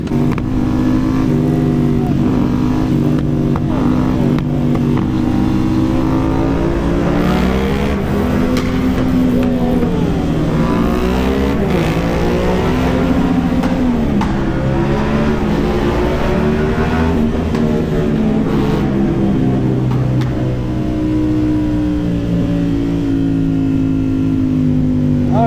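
Yamaha Tracer and Honda motorcycles rev loudly close by, engines rising and falling in pitch throughout, with no voices.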